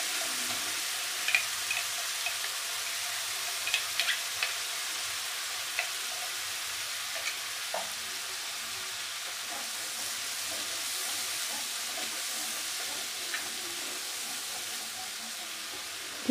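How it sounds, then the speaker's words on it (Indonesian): Ground spice paste fries in hot oil for Sundanese opor ayam, a steady bright sizzle with scattered pops and light stirring clicks, continuous and fairly quiet with no voices. "Minyaknya sudah panas, langsung aja kita goreng bumbu yang sudah dihaluskan."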